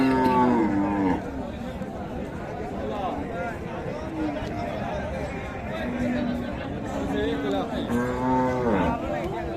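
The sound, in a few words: cattle at a cattle market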